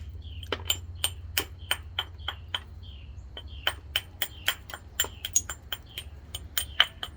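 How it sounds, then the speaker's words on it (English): Flint knapped by freehand percussion with a moose antler billet, giving a fast, irregular run of sharp, ringing clicks and taps, close and fairly loud, with no voices. "Can trim a little bit for the freehand percussion."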